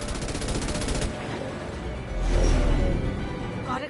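Rapid bursts of weapon fire in the video game Mass Effect 2, a quick rattling volley followed by a heavier booming blast, loud and close.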